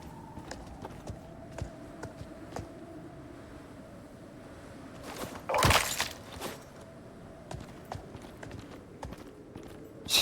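A horse's hooves clip-clopping in the survival game Icarus, a quick rhythmic run of hoofbeats at close range, broken midway by a loud burst of noise, with wind and a low drone behind.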